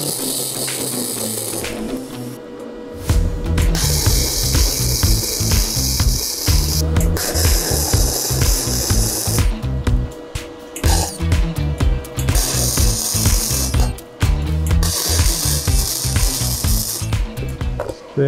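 Test weld from a 3-in-1 welding machine: loud harsh crackling and sizzling arc bursts, starting after a short hum, running in long sustained stretches with brief gaps, close up.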